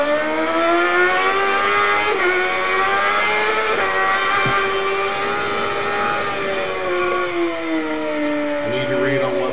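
A BMW racing motorcycle ridden by Peter Hickman at the Isle of Man TT screams at high revs, pitch sliding up and down through gear changes, loud and continuous from up close.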